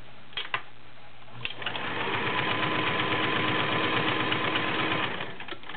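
Vintage Kenmore 1660 convertible flat-bed sewing machine with a size 16 needle sewing a straight stitch through fabric: a few light clicks, then a close, steady motor hum and rapid needle chatter running for about three seconds.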